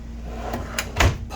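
A pots and pans drawer in the kitchen of a 2018 Forest River Cardinal 3350 fifth-wheel RV slides and shuts with a few quick close knocks, ending in a firmer thud.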